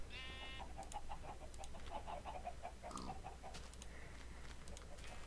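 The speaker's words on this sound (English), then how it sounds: "Chickens!" Chickens cluck in a rapid burst of short calls over a steady low hum, with a few scattered clucks and a brief higher squawk following close by.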